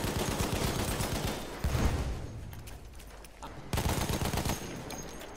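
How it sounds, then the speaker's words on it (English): Rapid, dense machine gun fire in Battlefield 1 on the Sinai Desert map, loud and close, with sustained bursts that briefly ease and then resume heavily. "Look out, machine gun."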